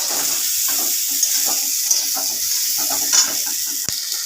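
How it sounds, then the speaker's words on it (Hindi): Cumin, green chillies and onion frying in a pan, a bright continuous sizzle with faint spatula scrapes and clinks and one sharp tap near the end, close and unaccompanied by talk. "मु जीरा दुईटा कंचा लंका प्याज बटा पकईकि भाजवा"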